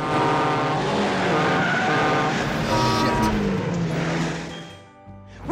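A Porsche and a Ferrari race through a movie car chase, engines roaring loud and steady with squealing tires, before the noise drops away abruptly near the end.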